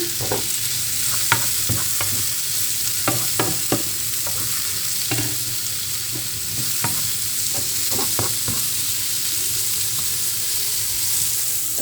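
Button mushrooms sizzle and crackle in a hot pan, with scattered clinks and scrapes from stirring over a constant frying hiss.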